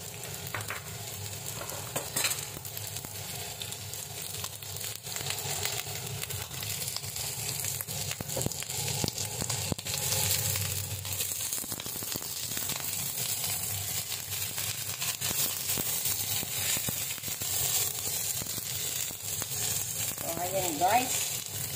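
Onions frying in a pan for a spaghetti soup, a steady broadband sizzle with scraping stirs running throughout at close range, with no talking over it.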